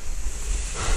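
Wind gusting against a 24-metre hot-air balloon envelope during a rescue, a loud, steady broadband roar with buffeting low rumble throughout, no voices.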